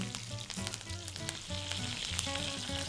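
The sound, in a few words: aubergine frying with mustard seeds and curry leaves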